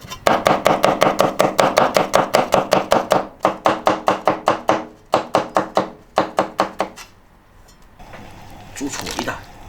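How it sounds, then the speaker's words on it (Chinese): A knife slices and dices pickled radish on a cutting board in a fast, steady run of crisp, close chopping thunks that pauses briefly, stops near the end and gives way to softer handling noise. "泡萝卜切片，酸萝卜切丁"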